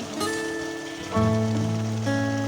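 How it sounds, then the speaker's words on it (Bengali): Malpua batter spooned into hot refined oil sizzles with a steady, rain-like crackle while sustained musical tones ring over it. "ভাজবার জন্য রিফাইন্ড অয়েল নিয়েছি তার মধ্যে এক টেবিল স্পুন মতন দিয়ে ব্যাটারটা দিয়ে নিচ্ছি"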